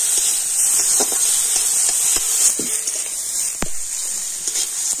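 Tomatoes being stir-fried in a pan while cooking a vegetarian curry give a steady close sizzle and hiss, broken by scattered scraping and clinking from stirring.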